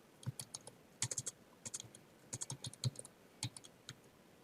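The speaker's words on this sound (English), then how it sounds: "So I'm typing sport-specific program design" Close, quiet typing on a computer keyboard, irregular clusters of crisp key taps with short pauses between bursts.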